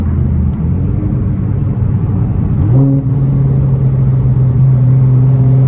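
A car pulls hard in second gear on a city street, its engine a loud, steady low rumble that climbs in pitch and steadies into a strong drone partway through, with no talk over it.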